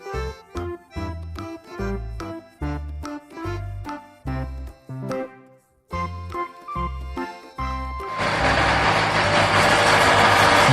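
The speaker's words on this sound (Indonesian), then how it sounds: "Truk gandeng." A trailer truck engine runs steadily at idle, a loud continuous rumble that sets in after a passage of bouncy, rhythmic music.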